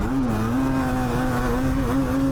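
Yamaha Banshee racing quad engine held at a sustained high, buzzing drone that wavers slightly in pitch, loud and close with no voices.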